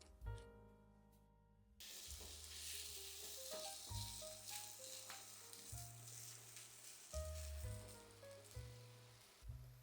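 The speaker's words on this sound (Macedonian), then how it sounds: "кога ги ставаме после во тава да ги пржиме" Mushrooms sizzle in hot oil in a pan, giving off their water as they fry. The hiss is steady and faint, starting after a brief pause and running on under a melodic music track.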